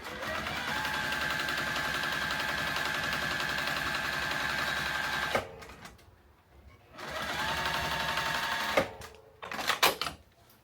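Domestic sewing machine running steadily while straight-line quilting, a fast continuous needle whir for about five seconds, then a pause and a second shorter run, ending in a few quick bursts of stitching.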